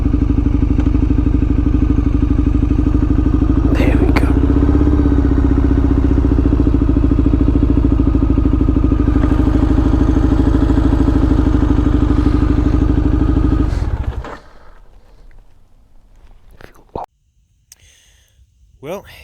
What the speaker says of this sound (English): This is my 2002 Triumph Bonneville. So, what is it? It's a 800cc parallel twin.